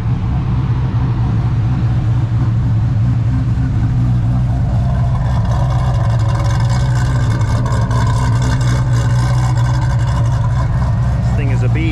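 An LT5-powered Ultima RS sits running with its cooling fans going. The engine makes a loud, steady droning rumble that holds evenly from start to finish.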